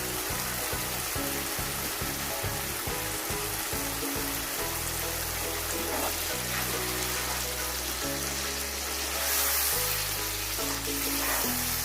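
Mutton karahi for a Lahori-style dish sizzles and crackles loudly in hot separating oil as yogurt goes in, with a dense continuous frying hiss and a few scraping stirs.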